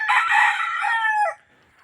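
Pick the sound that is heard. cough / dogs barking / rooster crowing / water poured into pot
rooster crowing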